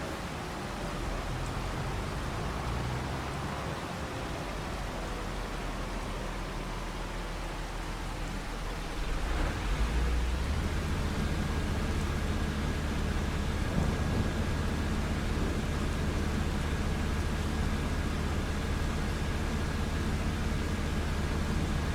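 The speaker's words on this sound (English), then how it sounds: "we've run into a little bit of rain, so we're going to have to stop harvesting for now" Steady broadband rain hiss in the video game Farming Simulator 25 during a farm harvest, growing louder and heavier about halfway through, with a low rumble underneath and no talking.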